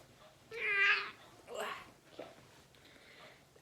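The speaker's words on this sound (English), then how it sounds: "This is my cat Duchess, and she can join us for story time" A pet cat gives one fairly loud meow, then a shorter, fainter one, against a quiet room background.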